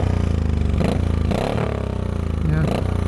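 A 2004 Honda Sabre 1100 motorcycle with a baffled Vance & Hines exhaust rumbles steadily up close, with a few short revs of the throttle rising and falling over the low idle.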